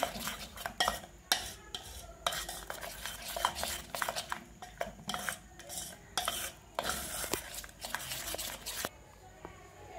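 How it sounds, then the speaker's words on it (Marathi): A batter with turmeric is stirred and mixed in a bowl for Konkan surali vadi, with rapid, irregular scraping and clattering utensil strokes in close bursts separated by short pauses. "मिश्रण असं व्यवस्थित एकजीव करून घेऊया आपण"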